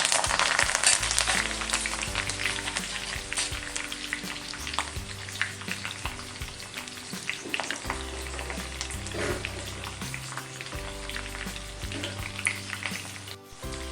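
Cumin, green chili and curry leaves sizzle and crackle in hot oil for a spiced Maharashtrian bhadang, a loud, dense frying hiss with stirring scrapes and music underneath that gradually settles.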